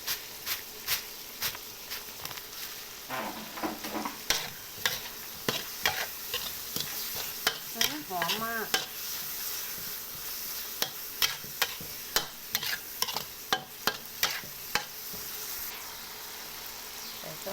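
Surf clams stir-fry in a pan with a soft steady sizzle, punctuated by sharp repeated scrapes and clacks of a utensil against the pan at an irregular, frequent rhythm.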